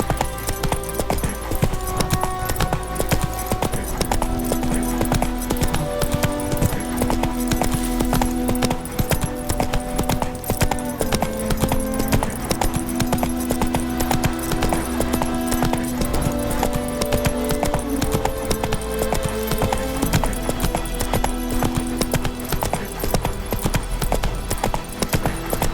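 Hooves of Roach, the horse in The Witcher 3: Wild Hunt, clip-clop at a steady gallop, a loud rhythmic pounding that runs without a break under tonal game music, with no speech.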